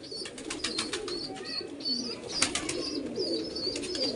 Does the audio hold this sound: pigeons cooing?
yes